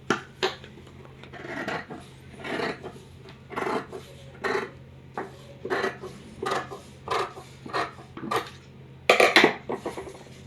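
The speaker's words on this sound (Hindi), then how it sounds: "ये हमारा ज़्यादा है, इसको हम काट के अलग कर देते हैं।" Repeated scissor cuts trim excess newspaper pattern for a petticoat belt, a series of short crisp snipping and rustling bursts in uneven rhythm, close and moderately loud, ending with a denser crackle of paper handling.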